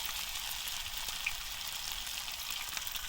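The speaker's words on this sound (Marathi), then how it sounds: "आज मी फ्रायच मारले आणि फ्राय कशी बघा मारते असं कुरकुरीत फ्राय मारते" Chicken pieces frying crispy in a pan of hot oil, giving a steady dense crackling sizzle that stays even and close throughout, with no talking.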